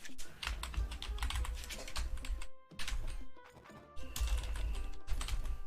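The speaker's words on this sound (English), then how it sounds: "I guess I'm using a keyboard for this." Rapid clattering keystrokes on a computer keyboard, dense irregular bursts of close taps with a short pause midway before the typing resumes.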